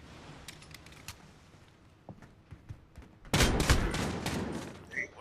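Hip-fired guns in Call of Duty: Modern Warfare crack in scattered, fairly faint shots and small clicks. Then a loud, close burst of rapid gunfire erupts and rattles on.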